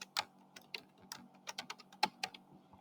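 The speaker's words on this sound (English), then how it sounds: "So you have to enter the password." A password is typed on a computer keyboard in a quiet room, with soft, close, irregular key clicks arriving in short bursts and a few sharper taps in between.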